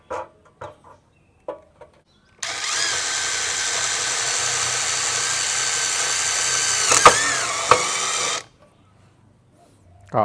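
An OSUKA OCID821 cordless impact driver in AI mode drives a long screw, a loud continuous rattling whir lasting about six seconds with a couple of sharp knocks near the end, framed by brief clicks and handling sounds before and after.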